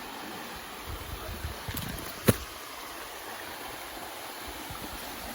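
Batu Dinding waterfall, the seventh tier of the falls, gives a steady broadband rush of falling water heard at a moderate distance, with a brief sharp knock or splash partway through and no voices.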